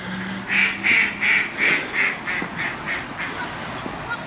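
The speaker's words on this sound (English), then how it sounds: "Lots of ducks here, lots and lots of ducks" Ducks quack at Port d'Andratx harbour in Mallorca, a run of about eight evenly spaced calls that start loud and close, then grow fainter and trail off over light harbour background noise.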